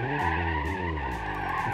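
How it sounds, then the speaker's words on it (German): Tires skid and squeal as a car drifts sideways in BeamNG Drive, a steady loud screech over a continuous engine drone, alone without voices. "Ja, hier kann man schon schön driften."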